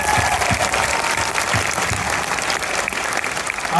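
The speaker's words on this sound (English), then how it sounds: "I do want to take this opportunity for all of us to give a round of applause to all" A large audience gives a round of applause for the teachers present at NASA chief astronaut Joseph M. Acaba's talk. The clapping is dense, loud and sustained throughout, with no talk over it.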